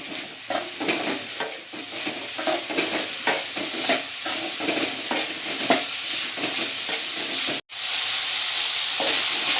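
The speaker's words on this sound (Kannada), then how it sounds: "ಇದನ್ನು ಸುಮಾರು ಒಂದು ಐದು ನಿಮಿಷ ಏನಾದರೂ ಫ್ರೈ ಮಾಡ್ಕೊಳ್ಳಿ" Capsicum fries in a hot pan with a continuous crackling sizzle and repeated stirring scrapes. A brief dropout comes near the end, then a steadier hiss.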